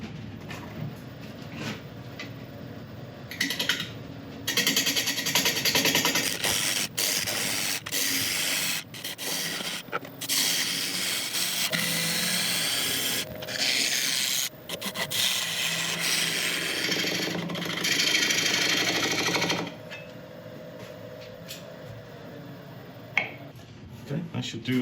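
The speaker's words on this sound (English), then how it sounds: "we've got a freshly sharpened 1/2 inch ball gouge. I'm going to start turning at about 600 RPM" A wood lathe spins a resin blank at about 600 RPM while a freshly sharpened half-inch ball gouge cuts into it, producing loud, rough scraping bursts broken by brief pauses, with the motor's hum beneath.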